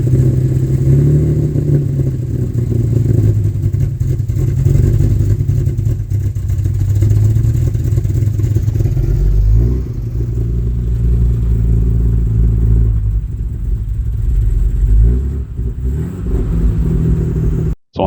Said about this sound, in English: I'll chuck a video up of the rough idle it had